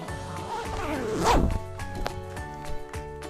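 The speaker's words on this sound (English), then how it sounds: "Zip up. To be closed by means of a zip." A clothing zipper zipped up in one quick, rasping pull that swells in loudness and ends sharply, followed by a few faint handling clicks.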